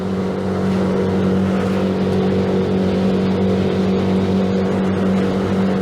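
A speedboat engine roars steadily at full throttle with power trim, cruising near 35 knots, a loud unbroken drone with strong low hum and wind and water rush, no voices.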